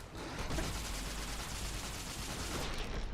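Sustained gunfire in Fallout: New Vegas, a dense, continuous burst of shots filling the whole stretch, loud and close with no talk over it.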